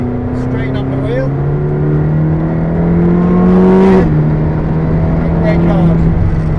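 McLaren 620R sports car accelerating on the Silverstone circuit, its engine note climbing steadily and loudly from inside the cabin, with a gear change partway through and a voice talking over it.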